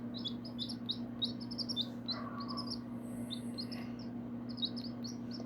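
Baby chicks chirp in rapid, high-pitched clusters of tweets nearby, repeating throughout over a steady low electrical hum.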